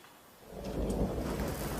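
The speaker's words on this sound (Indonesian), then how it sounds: "Hujan." Steady rain falls with a low rumble of thunder swelling underneath, a broad continuous wash that grows slightly louder after the first moments.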